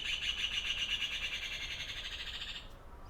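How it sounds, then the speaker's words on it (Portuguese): Birds sing and chirp in quick repeated trills over a faint background hiss, fairly close, fading near the end. "ouviu o canto dos pássaros?"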